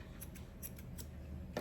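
A few quick snips of scissors trimming dog fur, light and close, spaced irregularly over a steady low background hum.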